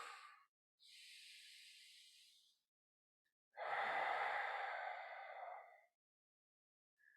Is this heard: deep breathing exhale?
yes